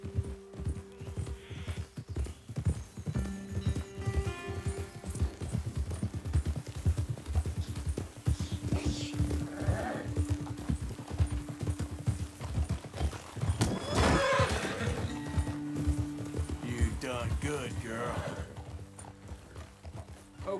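Horses in the Red Dead Redemption 2 video game clop their hooves steadily throughout, with several whinnies and neighs rising above the rhythmic hoofbeats and the game's ambient sound.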